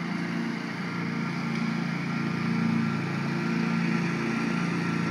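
A Bobcat lawn mower drones steadily while mowing a backyard, a continuous close engine rumble with no talk.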